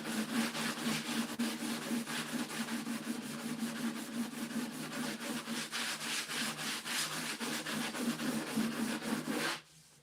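Retro furniture being sanded down through primer toward the fiberglass beneath, a steady close rasping scrape that runs continuously for about ten seconds with a rhythmic pulse before stopping abruptly at the end.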